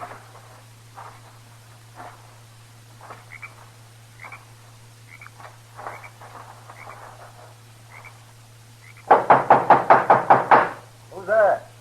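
Knocking on a hut door comes as a quick run of several loud, close raps near the end, after a stretch of quiet outdoor ambience with scattered faint sounds and a low steady hum.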